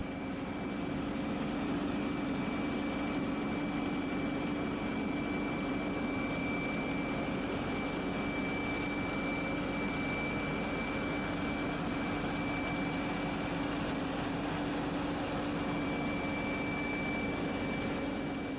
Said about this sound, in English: it is famous for its beautiful noise and especially for its clamshell reversers